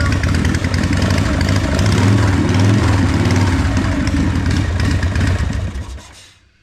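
A Harley-Davidson Softail Evo motorcycle engine runs just after an oil change. A loud, close, steady lumpy idle continues with slight revving swells, then cuts off and fades to silence at the end.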